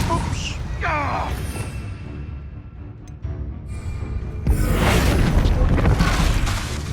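Confringo fire spell cast in the Hogwarts Legacy game, a deep booming blast that swells up mid-clip and holds loud, with a brief whooshing sweep and faint talk beforehand.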